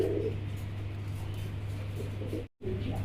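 Racing pigeons cooing in a fancy pigeon loft, a steady low murmur held throughout, with a brief dropout near the end and no talk.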